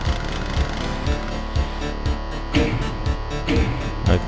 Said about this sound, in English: I love my chainsaw.